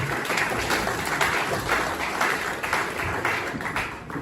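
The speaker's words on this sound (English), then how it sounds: "Big round of applause." A room full of people at a company launch night applauds, a continuous wash of clapping at moderate volume that holds steady throughout.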